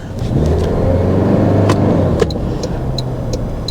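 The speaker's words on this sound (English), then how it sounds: "this is a 4-cylinder hybrid powertrain" A 2024 Toyota Land Cruiser 1958 edition with a 4-cylinder hybrid powertrain cruises in normal mode, a steady low engine and road rumble heard from inside the cabin, with a few faint clicks and ticks over the drone.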